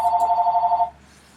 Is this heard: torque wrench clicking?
no